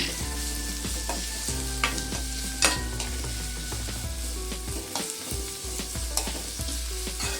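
Onion and capsicum fry in a pan, giving a steady close sizzle broken by repeated scraping stirs of a spatula, with no voices.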